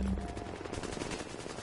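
AI enemies in The Division let loose rapid automatic gunfire, a fast, continuous rattle of shots close and loud for the whole moment.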